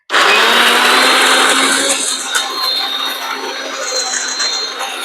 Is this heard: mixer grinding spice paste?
yes